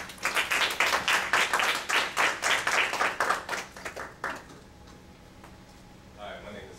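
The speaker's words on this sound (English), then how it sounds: "So, do a round of applause." A university lecture audience at Clark Atlanta gives a round of applause, brisk rhythmic clapping for about four seconds that quickly thins out and fades, followed by near quiet and a brief voice at the end.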